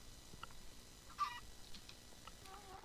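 A baby chicken in the Minecraft video game gives a few faint, brief clucks and chirps, scattered and quiet against low game background sound.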